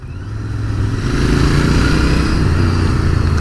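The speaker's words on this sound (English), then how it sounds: "Lovely thumpy engine." A 2019 Royal Enfield Interceptor 650 motorcycle being ridden, its engine a loud, steady, thumping drone close by that swells slightly in the first second and then holds an even, throbbing pull with no voices.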